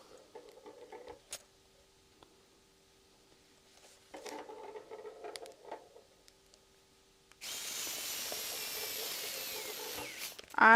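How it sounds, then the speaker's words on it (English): An electric screwdriver drives screws into hardware on a sewn clutch wallet. Short whirring bursts come first, then a longer steady run near the end, all close and without speech. "I personally recommend using an electric screwdriver."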